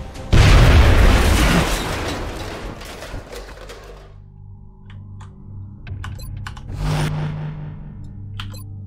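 A loud grenade blast in the turn-based strategy game XCOM: Enemy Unknown erupts near the start and rolls into a long decaying rumble, followed by scattered debris clicks and a lighter thud later.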